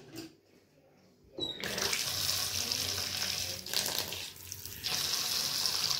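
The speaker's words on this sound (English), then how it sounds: "Here I have my vinegar that I'm using to wash my fish right here." Tap water runs steadily into a kitchen sink while fish is washed with vinegar for a Jamaican pop choy, sliced fish and yam dish. The flow is quiet at first, then starts loud and continuous and stays close until the end.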